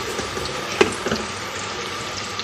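Steady frying sizzle rises from a pan while something browns for beef yakhni pulao, with a sharp clink of a utensil and a few soft stirs.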